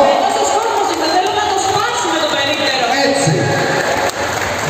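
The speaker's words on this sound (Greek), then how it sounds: "Ένα τεράστιο χειροκρότημα στα παιδιά μας όλα." A crowd at an exhibition applauds in a steady patter of clapping mixed with chatter and voices, fairly loud, ending with a brief dip at the close.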